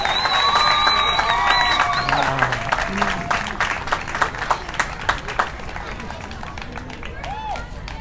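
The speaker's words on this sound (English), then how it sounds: "you can give her another round of applause" A crowd applauds and cheers at an award announcement during a charity walk's closing ceremony at a zoo, with steady clapping, scattered whoops and voices in the crowd that gradually thin out.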